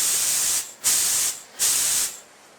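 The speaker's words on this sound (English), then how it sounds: "now we're going to do another little test spray to see how our pattern looks" A CAT air-assisted airless paint sprayer fires test sprays in three bursts of loud, steady hissing, each a second or less long, with short gaps of quieter hiss between them.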